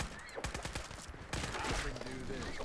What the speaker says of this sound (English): That was a violent explosion.